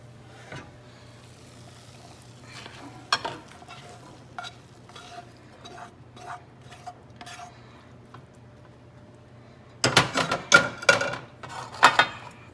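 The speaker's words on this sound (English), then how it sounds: "I'm gonna serve it in the serving platter" Cooked desi chana is spooned from the pan onto a serving platter with scattered metal clinks and scrapes, then a busier burst of clattering near the end, close and clear with no talk.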